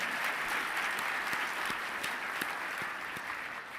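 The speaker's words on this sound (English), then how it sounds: "we can applaud those 2 alums." Steady applause from an audience at an awards ceremony honoring two alumni, a dense, even wash of clapping lasting throughout with no voices over it.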